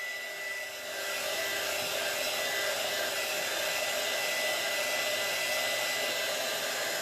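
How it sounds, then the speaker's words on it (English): A hair dryer blows on a chalk transfer, a loud, steady, airy whoosh that starts after a brief softer moment and runs on without a break, with no one talking. "So we're just drying this so we can keep chalking."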